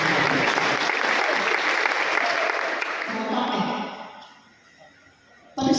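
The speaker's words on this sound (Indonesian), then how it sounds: "Kita berikan aplaus." An audience at a university celebration applauds in a dense, loud burst of clapping that holds steady for several seconds, then thins out and dies away.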